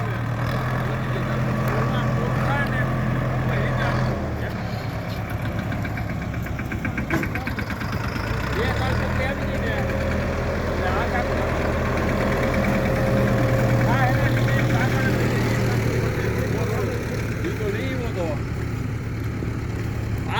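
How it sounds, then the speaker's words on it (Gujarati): A tractor engine runs steadily nearby on a farm during a groundnut harvest, a low throbbing rumble with mechanical rattle that holds throughout, rising slightly at moments. "જેસીબી જેવું ટ્રેક્ટર હો ભાઈ આ"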